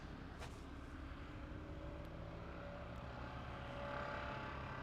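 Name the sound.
drilling machine running at slow RPM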